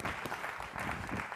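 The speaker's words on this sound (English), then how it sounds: "let's give him a big round of applause, please" Audience applause at a food summit welcomes a speaker to the stage, a steady wash of clapping from a crowd that keeps an even level for a moment.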